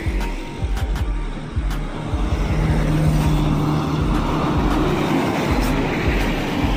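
A Mitsubishi L300 van passes along a road in Aceh near a toll exit, a steady rumbling engine and tyre roar that swells and holds through the middle before easing, with a few sharp knocks over broadband traffic noise.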